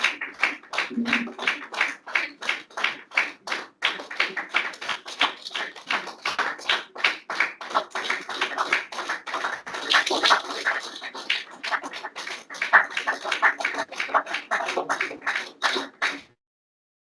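Applause at a long service award ceremony in a hall, steady rhythmic clapping from an audience lasting about sixteen seconds, fairly close and continuous before stopping abruptly.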